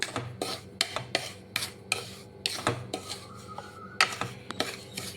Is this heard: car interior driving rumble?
no